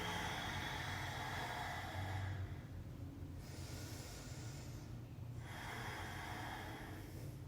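Deep, audible breathing held in a yoga pose, two long slow breath cycles with rushing inhales and exhales over faint background hiss, close and steady, with no talking.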